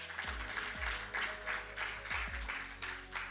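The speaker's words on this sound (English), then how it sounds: "Let's give him a round of applause as he joins us." Audience applause at the opening ceremony of a business summit is faint and patchy, with scattered claps rising and falling over a few low thumps.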